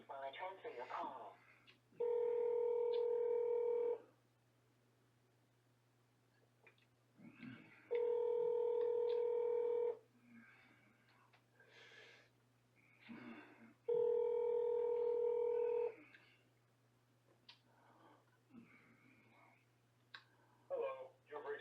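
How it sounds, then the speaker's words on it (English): A phone call is transferred to a Veterans Affairs office line: three loud, steady two-second ringback tones repeat at regular intervals, with faint clicks and brief recorded speech in the gaps between them. "Wait while I transfer your call."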